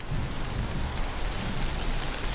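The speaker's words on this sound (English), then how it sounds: "What's with all the rain?" Steady, dense rain pours down in an animated cartoon scene, a loud, even hiss of falling water with no pause and no voices.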